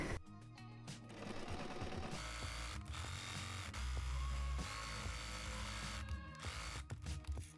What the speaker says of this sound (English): I'm going to sew the side seam again.